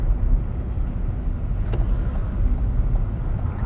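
A learner driver's car turns right on a London road, its engine and tire rumble steady and close from inside the cabin, with a brief click partway through.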